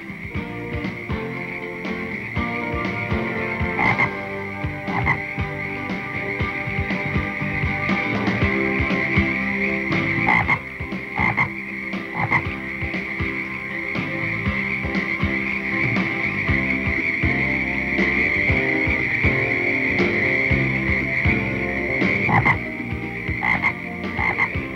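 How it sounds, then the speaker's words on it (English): Male frogs croak in a dense, continuous chorus at a pond during the spring mating season, many overlapping calls rising and falling steadily throughout with no voices. "One sound every female frog listens for is the croaking of a male."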